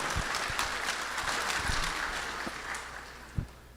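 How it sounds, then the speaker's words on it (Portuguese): An audience at a panel event in Passo Fundo applauds to welcome a speaker, steady moderate clapping filling the room throughout, with a few sharper individual claps near the end. "Vamos receber, com uma calorosa salva de palmas, nosso segundo painelista, Luiz Carlos Molhon"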